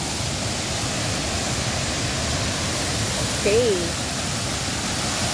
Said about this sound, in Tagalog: that's the falls.